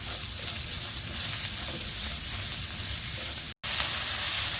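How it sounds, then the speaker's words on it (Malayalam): Liver and onion fry in a pan with a steady, loud sizzle and occasional stirring, the hiss constant apart from one brief cut near the end. "ഇനി നമുക്ക് ഇതിലേക്ക് എടുത്ത് വെച്ചിരിക്കുന്ന ലിവർ ചേർത്തിളക്കാം"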